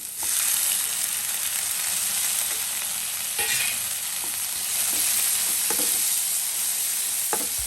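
Steady close sizzle of tomato frying in a pan with spices, mint, coriander, green chilli and curry leaves for a South Indian okra curry, with a few clinks of stirring, no talking.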